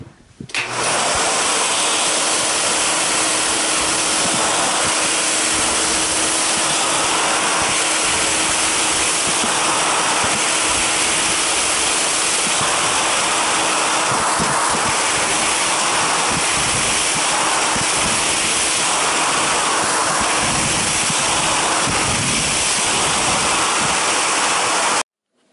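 A vintage 1970s Tristar Compact C9 canister vacuum cleaner runs on carpet with a loud, steady, broadband rushing roar that holds from start to finish, and the pitch shifts slightly as the tool is pushed.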